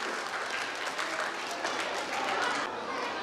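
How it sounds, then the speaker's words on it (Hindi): Audience at a school annual function clapping together in welcome, a dense, steady wash of applause from a large crowd that swells slightly before thinning toward the end. "साथ में तालियां बजाकर वेलकम करें"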